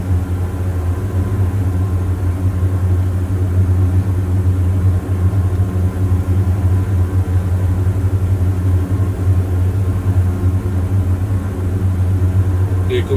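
The engines of a DA42 twin-engine aircraft in a flight simulator hum in a loud, steady, unbroken drone with a low tonal rumble that holds even throughout.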